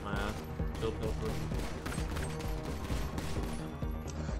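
Rapid, fairly faint gunfire during a casino heist in GTA 5, a dense string of clattering shots with a mechanical edge, with talk mixed in beneath.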